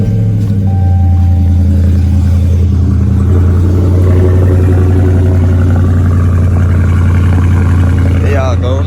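A 2020 Dodge Charger Scat Pack engine, loud and close, with a deep steady rumble that swells into revving, heard over a voice talking nearby.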